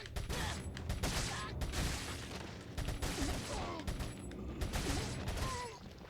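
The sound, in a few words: TMP submachine gun firing in video game Resident Evil 4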